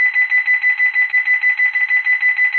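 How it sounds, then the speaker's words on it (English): An alarm clock rings steadily, its piercing electronic tone pulsing in rapid, regular beeps that continue loudly and alone without a break. "We having some alarm issues."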